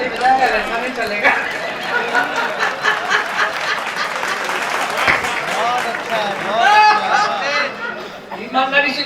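Audience applause at a Hindi comic poetry gathering (hasya kavi sammelan), a steady wash of clapping mixed with crowd chatter and laughter, with a speaking voice over it throughout.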